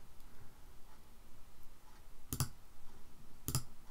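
Two sharp, isolated mouse clicks while advancing through PowerPoint slides, spaced about a second apart, close and fairly clear over a faint room hiss with no talk.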